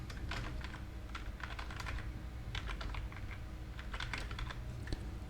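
Steady typing on a computer keyboard, rapid clustered keystrokes with short pauses, close and clear throughout with no voices.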